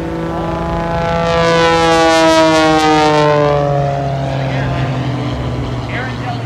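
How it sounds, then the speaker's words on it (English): A national champion aerobatic airplane hangs on its tail in a hover at a Gold Coast air show. Its loud, close propeller engine drones steadily, the pitch slowly sweeping downward and fading a little toward the end. "he's going to stand it right there on the tail. I told you these airplanes are going to hover today."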